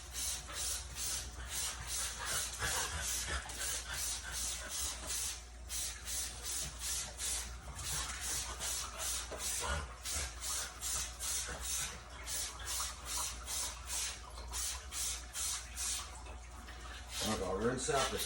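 A GE 35-pint dehumidifier is rinsed with a water sprayer, giving a fairly quiet, continuous hiss and splash broken into rapid pulsing bursts, with a louder gush near the end.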